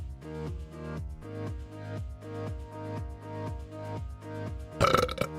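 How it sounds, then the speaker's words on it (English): A long, drawn-out belch after drinking Coke, heard close and loud with a rhythmic, pulsing rumble that runs for several seconds before a brief harsher burst at the end. "The Coke belches are strong today."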